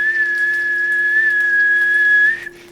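A person whistles one steady, clear sustained note close to the microphone for over two seconds, then it breaks off abruptly.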